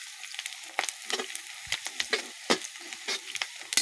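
Onions sizzle in a hot pan at the start of a pork dish, a steady crackling fry close up, punctuated by the scrape and clatter of stirring.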